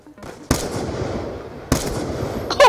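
Two sharp, booming Ballista sniper rifle shots in Call of Duty on the Nuketown map, each a loud crack followed by a ringing tail, spaced over a second apart with a third burst starting at the end.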